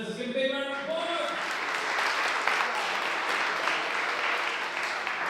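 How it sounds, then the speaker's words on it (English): An audience gives dense, steady applause for a group of presenters at an awards event, sustained and evenly loud throughout, with a voice briefly audible at the start. "Let's give a big round of applause."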